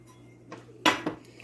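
A whisk or spoon stirs a vegetable oil and flour roux in a pot, giving a few quick metallic clinks and scrapes against the pot, close and fairly faint.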